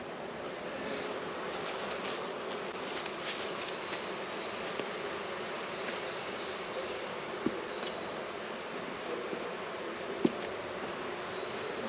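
Honeybees buzz in a hive crowded with very new bees, a steady close-up hum with a few faint clicks and taps, no voices.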